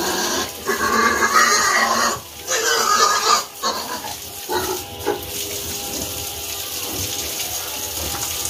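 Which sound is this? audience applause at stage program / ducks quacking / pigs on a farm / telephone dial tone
pigs on a farm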